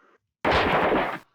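Gunfire in the Pathways Into Darkness video game, fired at a greater nightmare: one loud, sustained burst of shots lasting under a second, broad and booming, after a short bit of quiet.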